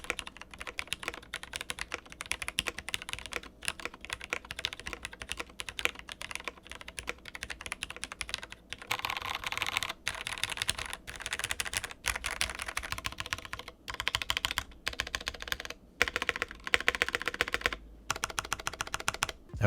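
Steady, fast typing on a TKL mechanical keyboard fitted with plate foam only, the keystrokes dense and close with a slightly hollow, clacky character and brief pauses between bursts.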